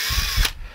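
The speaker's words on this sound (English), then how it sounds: "That's noisy though, that drill." A power drill runs loud and close while working on a tap follower in a machine shop, a steady whirring grind that cuts off abruptly partway through and leaves quieter ratcheting mechanical noise.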